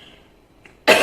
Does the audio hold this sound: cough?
yes